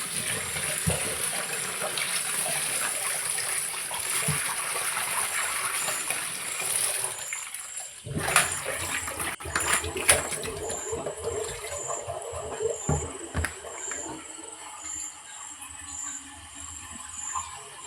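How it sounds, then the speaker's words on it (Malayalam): Food is washed under running water, with a steady rush of flowing water throughout and sharper splashes and clatter joining in partway through. "നമുക്ക് നല്ലോണം അതിൽ കഴുകിയെടുക്കുക"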